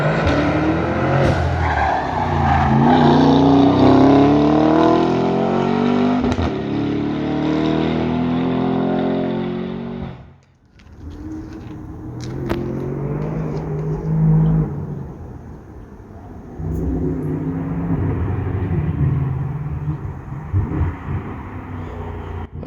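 A "Super" Porsche Panamera lapping the Nürburgring, its engine roaring loud and sustained with rising and falling revs, a brief dip around the middle, then continuing to pull hard with tire noise.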